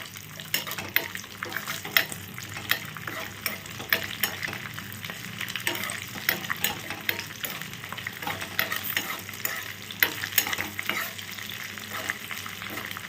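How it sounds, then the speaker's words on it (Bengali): Carrot halwa made with new jaggery, cashews, raisins, cinnamon and cardamom is stirred in ghee in a pan. A spoon scrapes in a continuous uneven rhythm over a low frying sizzle, close up, with no talking. "দেব কাজু বাদাম, দেব কিশমিশ, দিয়ে এটাকে ভালো করে একটু নেড়ে নেব"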